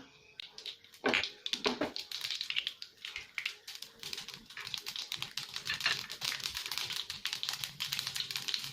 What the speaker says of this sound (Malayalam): ഇനി ഇതിലേക്ക് 1/2 ടീസ്പൂൺ കടുക് ഇട്ട് കൊടുക്കാം.